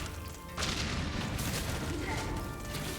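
Bomb blast in the video game Silksong, a loud booming crash erupting after a short pause and rumbling on densely for a couple of seconds amid other game noise.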